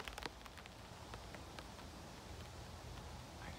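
Steady rain falls outside on a late night, a soft continuous patter with a few sharper drop taps near the start, moderately close and heard alone.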